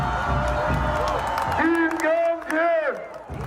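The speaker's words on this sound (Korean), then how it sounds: "박수 한번 해주시기 바랍니다." At a political party rally, the crowd claps and cheers, with scattered claps at the start and then voices shouting and chanting in rising and falling calls.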